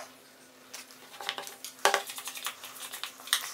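Metal spoon clinking and scraping against a cup or bowl as used coffee grounds are scooped, several small close taps and scrapes in a quiet room, with one sharper knock near the middle.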